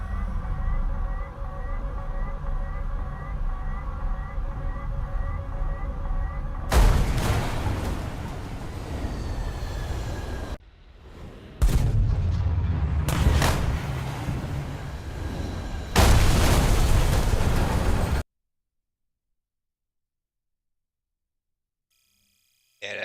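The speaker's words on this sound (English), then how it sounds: "Yeah, that explosion sound, that's probably way too loud." Loud explosions and heavy booms in War Thunder during a realistic air battle, bursting in several sharp blasts separated by brief gaps before cutting to silence.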